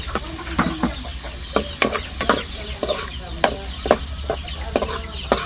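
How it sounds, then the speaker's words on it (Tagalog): Hotdogs sizzle and crackle frying in a hot pan, with repeated sharp scraping clicks of a utensil stirring at an uneven rhythm, close up. "lalagay na po natin yung hotdog. Para ma-prito ng kauntihan."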